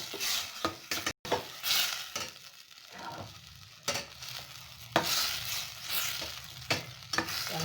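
Tomato, onion and pepper frying together in a pot for scent leaf stew, with a steady sizzle broken by bursts of stirring and scraping of a utensil against the pan, close and moderately loud.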